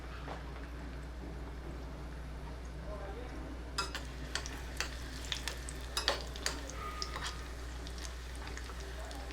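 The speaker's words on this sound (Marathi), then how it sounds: "आता त्याच तुपामध्ये मी थोडेसे बेदाणे घालते ते पण तळून घ्यायचे आहेत आपल्याला" Raisins fry in hot ghee with a low steady sizzle under a constant hum, joined partway through by a series of light spoon and pan clinks.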